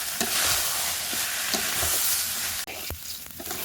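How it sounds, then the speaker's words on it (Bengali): Washed rice and dal being stir-fried in a wok for khichuri, a steady sizzle with repeated scraping stirs and a couple of sharper knocks near the end, close, with no talking. "ধুয়ে রাখা চাল আর ডালটা একটু কড়ার উপর ফেলে নেড়ে নিয়েছি"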